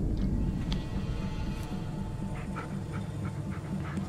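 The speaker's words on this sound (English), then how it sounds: "I had to call the dog to stop running" A dog pants steadily in the Blair Witch video game, quick rhythmic breaths sitting faintly under a low ambient drone with a couple of soft whimpers.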